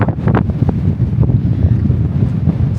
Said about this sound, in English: so windy right now, I can't even talk.